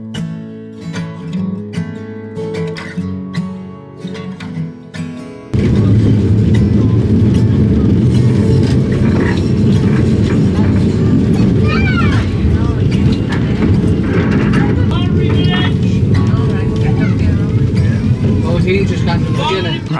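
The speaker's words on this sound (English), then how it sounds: "we're getting on a tram finally to go to the next part of the museum" A loud rumbling tram ride at Beamish Museum, with steady low mechanical noise and squealing wheels, following a few seconds of music at the start.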